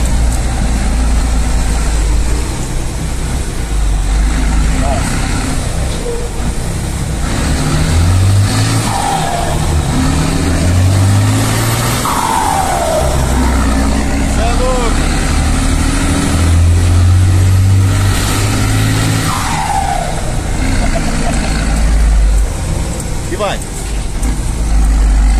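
A Cummins 16.220 truck engine revs hard while driving, a loud, steady mid-pitched drone that rises and falls with the throttle and gear changes. Someone talks over it.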